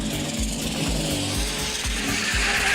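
Toyota GT86 drift car at a pro drifting battle on a UK circuit, its engine blaring loud and close with rhythmic revving pulses and continuous tire squeal throughout.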